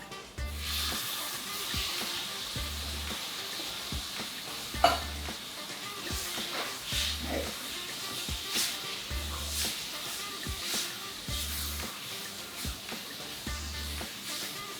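Canned tomato stirred into a roux in a pot, with a steady soft sizzle and scraping stir running throughout, plus a regular low thumping pulse and an occasional louder clink.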